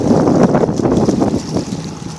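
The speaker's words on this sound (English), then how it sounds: "Wind's gone up, coming over the farmers' fields" Strong wind buffets the microphone on a narrowboat moving past open farmland, a loud, continuous rushing roar with gusty swells that eases slightly toward the end.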